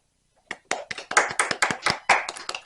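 A small studio audience on a talk show claps briefly after a moment of silence: a few scattered hands building into a quick, uneven run of claps, close and fairly quiet.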